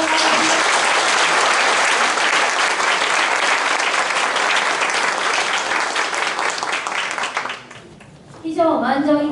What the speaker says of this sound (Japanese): 決議内容にご賛同いただける方は拍手をよろしくお願いします。